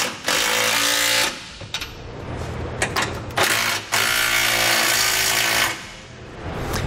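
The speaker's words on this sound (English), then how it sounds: "For our flange nuts on our 2 carriage bolts, we're going to use a 19mm socket." A 19mm socket on a power wrench or ratchet drives flange nuts onto carriage bolts while a trailer hitch is fitted to a 2008 Ford F-150, with loud bursts of buzzing and rattling broken by short pauses.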